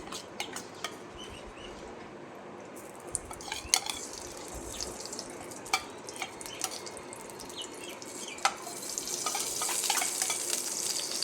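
Ghee going into a hot pan for a Kundapura-style chicken curry: a low, steady sizzle with scattered sharp clicks and drips, rising to a louder, fuller hiss toward the end.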